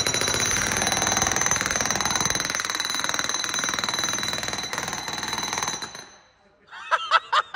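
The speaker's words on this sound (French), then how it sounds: "C'est le plus gros marteau-piqueur de la gamme." The largest jackhammer in the range hammering steadily up close, a loud rapid pounding with a shrill whine for about six seconds, then stopping, followed by brief voices.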